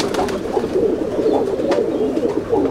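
Chennai breed pigeons in a loft at Andul, Howrah, coo repeatedly at close range, a run of soft throaty calls with no voices over them.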